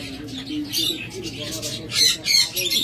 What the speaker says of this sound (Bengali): অ্যালবিনো রেড আই ফিশার জোড়া দেখুন